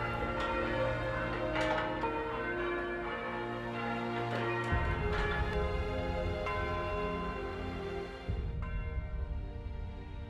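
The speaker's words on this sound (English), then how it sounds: "This is where enthusiastic bell ringers regularly wake up the village." Church tower bells ringing in a village in Harthill, a dense clangorous peal of overlapping strikes that keeps going, loud and close from within the tower, with no voices.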